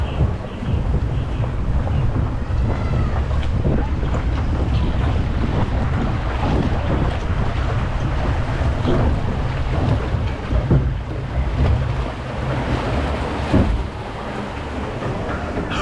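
Log flume ride at Bellewaerde theme park, a loud continuous rush and churn of splashing water mixed with wind buffeting the microphone, with no voices.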